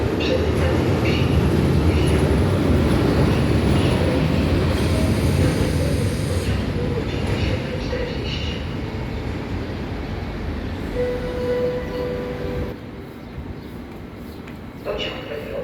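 A Polish passenger train idles and moves at Poznań Główny station, giving a broad rumbling and hissing platform noise that slowly eases off. A faint brief squeal sounds near the end, under a muffled station announcement.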